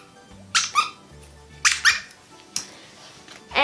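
A pumpkin-patterned plush dog toy with four squeakers lets out several sharp, close squeaks in short bursts, separated by quiet gaps, with no voices.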